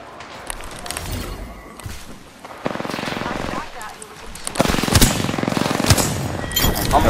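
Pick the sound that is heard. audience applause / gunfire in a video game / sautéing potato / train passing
gunfire in a video game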